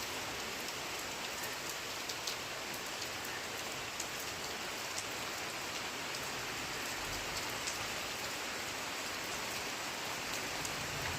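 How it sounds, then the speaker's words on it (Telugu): Steady rain falling in a village, an even, dense patter on surfaces heard close and continuous, with no voices or other sounds standing out. "మా ఊర్లో వర్షం పడుతుందండి"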